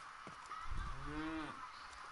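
A cow mooing in the video game Far Cry 5, one drawn-out low moo rising and falling, fairly close, over quiet background game ambience.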